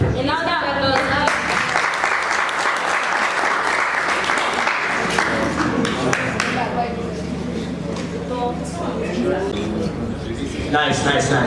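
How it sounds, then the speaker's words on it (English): A round of applause from a tech event audience as a speaker comes up, steady crowd clapping filling the room with voices and cheers layered over it, thinning toward the end. "Please, a round of applause."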